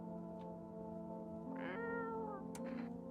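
Cartoonish cat meows from a video game where the player pets and feeds a cat, two distinct harmonic mews rising and falling over a steady musical background hum, with no talking.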